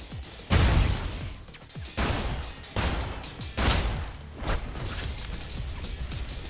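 Gunfire in the shooter game Snowbreak: Containment Zone: a series of sharp, loud bursts of shots roughly every second, each with a short ringing tail, set against steady background game noise and with no talking.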